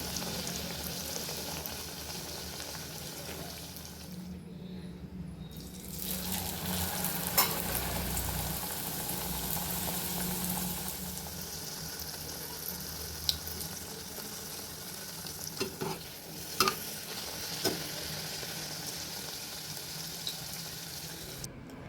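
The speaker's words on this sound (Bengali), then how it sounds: "এই যে দেখো ভেজে নিচ্ছি" Pea kachuri fries in hot oil with a continuous soft sizzle and bubbling, punctuated by occasional clinks and scrapes of a utensil.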